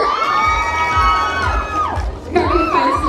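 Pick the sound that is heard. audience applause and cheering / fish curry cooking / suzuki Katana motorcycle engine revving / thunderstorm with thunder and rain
audience applause and cheering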